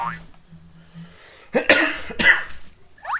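A man coughs twice in sharp, harsh bursts close to the microphone, with quieter throat sounds before and after.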